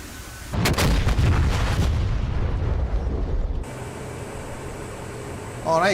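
A Hornet jet fires gunfire rounds in a flight simulator game, a loud close burst of rapid shots lasting a few seconds, then fading into lower engine rumble and a brief radio-like tone at the end.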